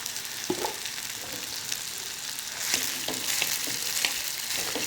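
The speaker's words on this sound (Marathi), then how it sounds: "आता पहिली मी बारीक साबुदाणा टाकणार आहे" Fine sabudana (tapioca pearls) hitting a hot pan and sizzling steadily, a dense crackling hiss that grows brighter midway with a few scattered taps and stirring clicks, close and continuous with no talking.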